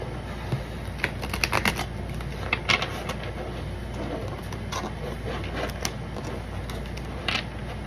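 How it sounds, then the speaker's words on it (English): Crisp, irregular clicks and flutters of cards being shuffled, close by, in short bursts over a quiet background. "it probably went out because of me shuffling cards"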